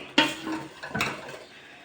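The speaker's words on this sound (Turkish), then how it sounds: "Yemeği yaparken tuzu katıyorum. Ve kavuruyorum." Salted dried beans are stir-fried in a pot: two quick scraping stirs with a soft sizzle and clink, fairly quiet and close.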